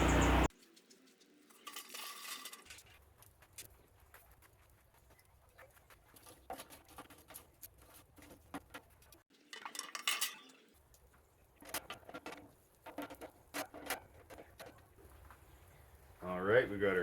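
Metal cooking grates are set down onto a PK charcoal grill, making sparse scrapes and clanks spread across the span, with a louder clatter toward the end over quiet outdoor background.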